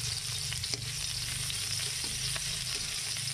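Garlic and onion sautéing in a pan, a steady close sizzle with occasional stirring clinks and scrapes, no voices.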